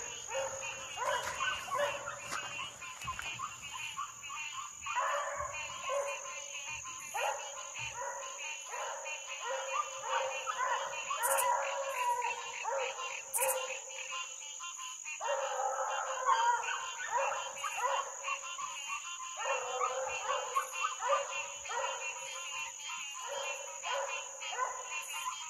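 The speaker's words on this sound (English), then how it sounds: "Doggone beagles wanting out of there." Beagles bay and yelp repeatedly during a nighttime coon hunt near a pond. Dense overlapping calls carry from a moderate distance over a constant background of insects.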